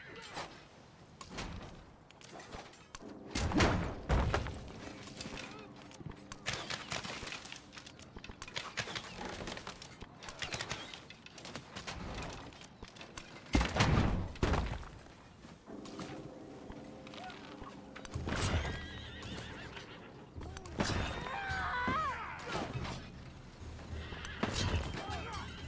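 Horses in Civilization VII, with whinnies and clopping hooves in short loud bursts among battle effects, repeating several times and mixed with speech.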